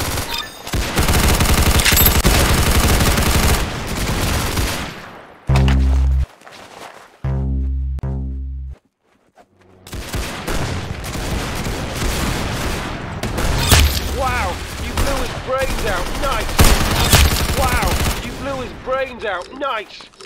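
Bursts of rapid automatic gunfire from the Roblox game Arsenal, loud and dense, broken by a few heavier booming shots and brief silences, then more crackling fire under a speaking voice.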